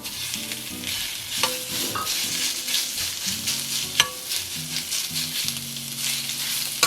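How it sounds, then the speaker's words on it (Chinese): Pork trotter meat and shallots stir-fry in an oiled pan, a close, continuous sizzle broken by repeated scraping and pressing strokes of a spatula and a few sharp clacks against the pan. "好，那我们把猪脚肉稍微压一压，拌炒"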